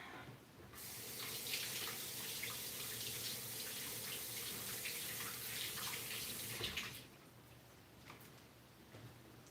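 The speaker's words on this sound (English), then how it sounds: "Let me wash my hands real fast." Water runs steadily from a kitchen tap while hands are washed during baking, a loud continuous rush that starts abruptly and cuts off near the end, leaving quiet room tone.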